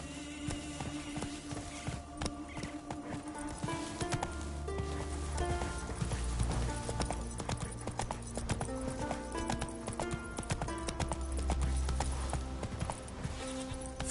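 In The Witcher III, the horse Roach runs with a quick, continuous clip-clop of hooves under steady orchestral game music, fairly close and without speech.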